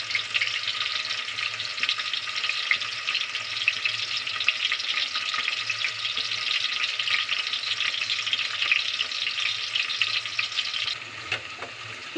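Chopped small onions frying in a pan for green egg biryani, producing a loud, continuous crackling sizzle heard close and alone, easing slightly near the end.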